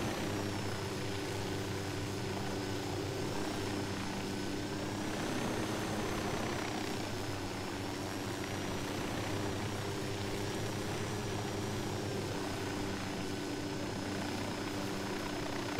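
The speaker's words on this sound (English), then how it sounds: "I just wanted to follow him with the helicopter" Helicopter flying in the video game Ghost Recon Wildlands, a steady droning rotor and engine hum that holds at a constant moderate level throughout, with no talk over it.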